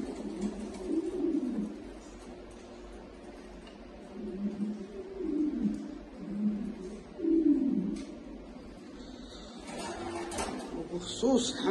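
Young meat pigeons about 30 days old, of a French breed, give low soft cooing calls in repeated bursts, fairly close, with background noise and some rustling toward the end.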